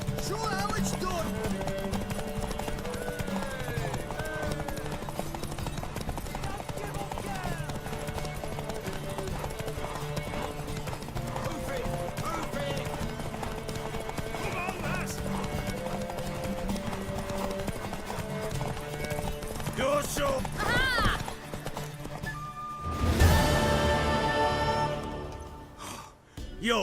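Horse hooves clip-clop steadily through a galloping race in The Witcher 3, with game music and character voices over the rhythm and a louder burst near the end.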